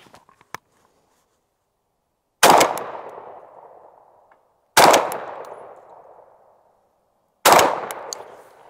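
Three loud shotgun blasts of birdshot loads ring out outdoors at about 20 yards, evenly spaced a couple of seconds apart, each with a sharp crack and a decaying tail, after a few faint clicks.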